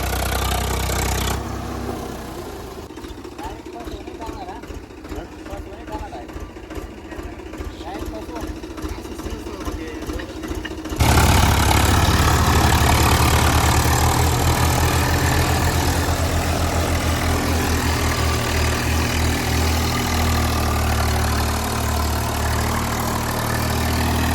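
A tractor fitted with 600-size tyres idling, a low steady engine rumble that grows louder and heavier partway through, with a voice talking over the first part.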